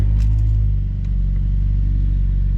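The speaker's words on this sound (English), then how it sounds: "so I'll do a kind of a cold start, not really, for you guys" A manual Mazda 3 engine starts and settles into a loud, steady idle with a low throbbing hum, close up and with no talk.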